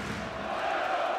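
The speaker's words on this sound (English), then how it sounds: "the crowd trying to cheer on the Hungarian side" A crowd cheers on the Hungarian side at a Hungary versus Slovenia handball match at EHF EURO 2012, producing a steady, dense arena roar that swells slightly throughout the short moment.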